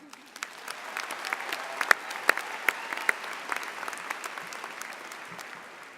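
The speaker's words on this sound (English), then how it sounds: "Let's take a moment and give ourselves a round of applause." A graduation audience claps steadily for about six seconds, the dense applause fairly close and even, with a few sharper individual claps standing out and no talk over it.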